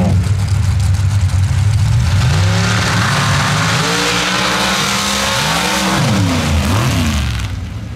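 A Chevy S10 outlaw pro stock dirt drag car launches and accelerates down a dirt track at Cook Station, Missouri, its engine roaring loud and close with rising and falling revs and gear changes across the run.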